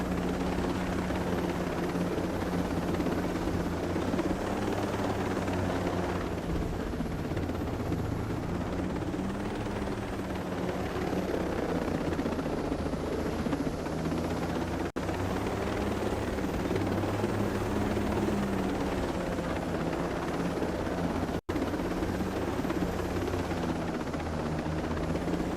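An aircraft flown in the video game Ghost Recon Breakpoint, a steady rotor-like engine drone that holds throughout with no talking.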